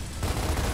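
A Gears of War turret fires a dense, continuous volley that stays loud for a brief moment, with no talking.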